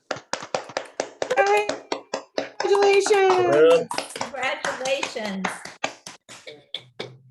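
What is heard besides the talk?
audience applause for honorees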